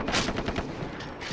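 Gunfire in the Far Cry 3 co-op game, a quick burst of several sharp shots in rapid succession with decaying echoes, loud and close, no talk.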